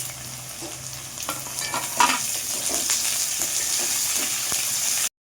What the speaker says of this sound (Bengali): এবার আমি রেড ক্যাপসিকাম আর ইয়েলো ক্যাপসিকামটা একসঙ্গে নিয়ে হালকা করে নেড়ে নেব